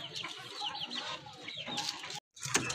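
A pair of pigeons, part of a stock of Rajgolla, Bombay and similar breeds kept for sale, coo and burble close by in quick warbling bursts, with a short pause before a final call.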